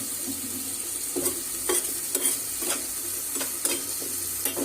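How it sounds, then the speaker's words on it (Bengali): Chopped onion and garlic fry in oil on a tawa, a continuous bright sizzle with several sharp scraping stirs of a spatula at irregular intervals, close and without speech. "পেঁয়াজটা একটু ভাজা ভাজা হয়ে নেক।"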